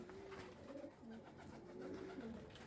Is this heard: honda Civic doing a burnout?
no